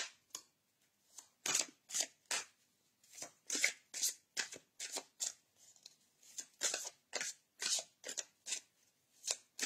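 A deck of cards for a card reading is shuffled and handled in a quiet room, giving a quick run of soft crisp riffles and flicks in an irregular rhythm, close and faint.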